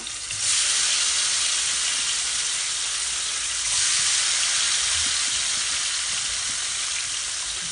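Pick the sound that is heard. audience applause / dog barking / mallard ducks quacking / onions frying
onions frying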